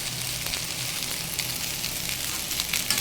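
Jackfruit frying with potato greens and lentils sizzles steadily and loudly in the pan after water is poured in, a dense, even hiss with no voice over it.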